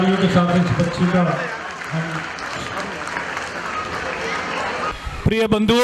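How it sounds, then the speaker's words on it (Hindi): At a school's annual function, an audience claps in a dense, sustained burst that runs under loud amplified speech from the stage, with a voice coming back in over the tail of the applause. "जोरदार तालियों के साथ इस बच्ची का"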